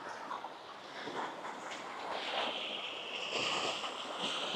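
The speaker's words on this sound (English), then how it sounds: "Look how rough this water got." Choppy, wind-roughened water slapping and rushing steadily nearby, mixed with gusty wind buffeting the microphone, with no one speaking over it.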